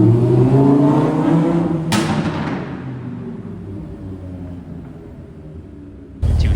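A GT sports car rolls up at a Toronto car meet, its engine rumbling loudly nearby and then fading as it passes, with a sudden burst of noise at the very end.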